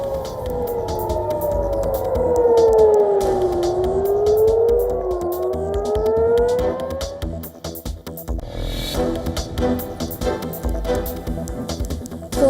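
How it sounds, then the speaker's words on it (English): A loud wailing air raid siren in Tel Aviv rises and falls in long sweeping tones, sustained for several seconds before fading into rumbling background noise. "Air raid sirens sound across Tel Aviv and occupied West Bank"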